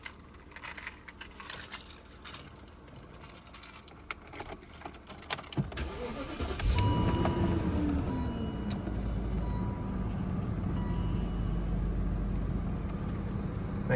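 Keys jingle and clatter, then the engine of a 2001 BMW 740i with about 175,000 miles cranks, catches and settles into a steady idle that keeps running.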